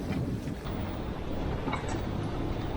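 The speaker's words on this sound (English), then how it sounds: "Finally sailing again." Sailboat under way in strong wind, with a steady loud roar of wind buffeting the microphone and rushing water for the whole stretch, no voices.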